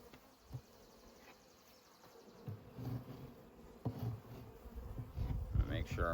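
Honeybees buzzing around a newly set-up beehive with a mason jar feeder, a steady faint hum with occasional louder passes and handling knocks toward the end.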